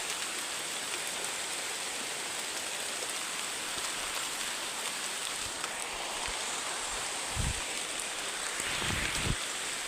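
Steady rain pours down in a continuous hiss, with a few low thumps of heavier drops or gusts near the end.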